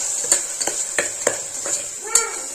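Dal khichdi ingredients being stirred in a frying pan, a spoon tapping and scraping the pan in about six distinct close strokes over a soft background hiss.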